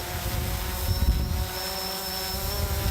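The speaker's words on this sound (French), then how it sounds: "on a aussi des drones qui permettent de survoler une bonne partie de rivière" A drone flies over a river during watercourse and riverbank maintenance, giving a steady whirring propeller hum with a thin high whine, continuous and moderately loud with no talking.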